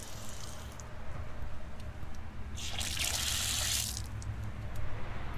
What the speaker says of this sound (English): We do have a water spigot here.